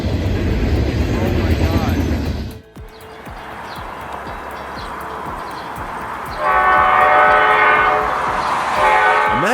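A train rumbles past at a rail crossing, a loud, continuous roar with a horn-like tonal blast swelling near the end, while speech is faintly present.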